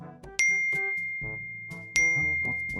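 A phone text message notification in the film The Crow sounds as two bright, ringing dings about a second and a half apart, each one decaying slowly over low background tones.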